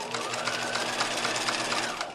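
A sewing machine runs steadily, zigzag stitching the seam of pajama pants, with a close, loud, even whir and fast mechanical chatter continuing without a break.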